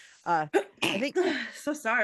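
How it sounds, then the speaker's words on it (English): A single abrupt sneeze bursts out in the middle of an indoor conversation, with people talking closely before and after it. "You sneeze every time I'm here."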